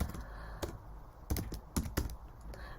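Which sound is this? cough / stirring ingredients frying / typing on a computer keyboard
typing on a computer keyboard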